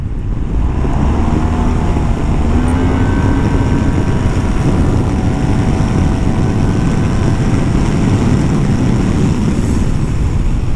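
Yamaha T-MAX 2022 scooter engine heard while riding, a steady loud drone blended with heavy wind rush and road noise that holds evenly throughout with no talking.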